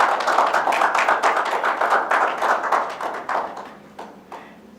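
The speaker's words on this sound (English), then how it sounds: "applause" An audience gives a round of applause as agreements are signed and exchanged at a parliamentary twinning ceremony, clapping loud and dense at first, then thinning into scattered claps that fade out.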